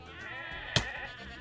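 Goats bleat in a video game, a steady harmonic cry running throughout with one sharp, loud click-like burst near the middle.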